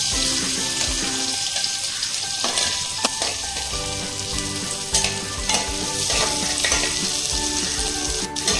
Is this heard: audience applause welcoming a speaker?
no